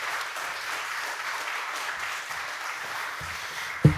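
A church congregation applauds to welcome the pastor before a Sunday sermon, a soft, steady wash of many hands clapping heard from a distance, with a brief thump at the end.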